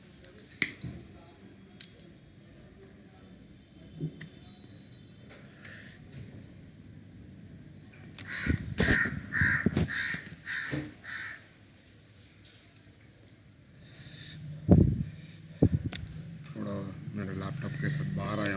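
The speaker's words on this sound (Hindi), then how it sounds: "थोड़ा बैकग्राउंड नॉइस आपको गाड़ी का आवाज़ या दूसरे का आवाज़, कौवे का आवाज़ सुनाई में आएगा" Crows caw intermittently outdoors, with passing vehicle noise. Someone talks throughout in the foreground.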